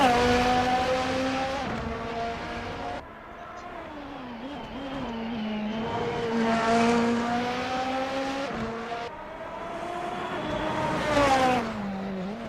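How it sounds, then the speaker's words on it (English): Video game race cars engines droning steadily on the Tokachi track, several cars' harmonic whines rising and falling with gear shifts and passes, loud and continuous throughout. "we got the first cars officially out on track"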